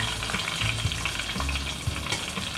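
Blue catfish pieces frying in a pan of oil, a loud, steady crackling sizzle close up with no voices.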